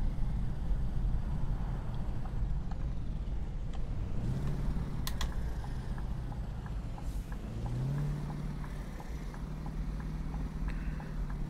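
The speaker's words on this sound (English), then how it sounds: "drop engine brake on again, because this turn will be downhill and we'll need to slow down as much as possible." A heavy truck in Euro Truck Simulator 2 runs on its engine brake on a downhill turn, giving a steady low droning rumble that shifts pitch a couple of times, with a few faint clicks over it.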